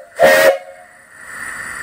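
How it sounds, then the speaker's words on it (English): A single short, loud blast from a brass live-steam engine boiler whistle, a clear sustained tone with hiss, followed by a lingering steady hiss as it fades. "Nice whistle. Great sound."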